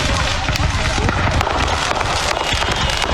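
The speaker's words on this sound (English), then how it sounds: "these are all fireworks" Fireworks and firecrackers going off at a Victoria Day gathering, a dense crackle of rapid pops and bangs layered over crowd noise and voices throughout.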